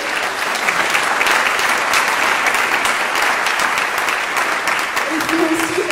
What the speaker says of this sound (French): vous pouvez l'applaudir chaleureusement pour l'encourager.